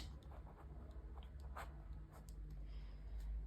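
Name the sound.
writing on a board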